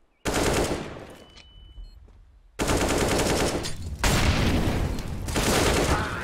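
Heavy Desert Eagle pistol fire in Counter-Strike rings out in loud, dense volleys, with a short quieter gap before more sustained shooting continues to the end.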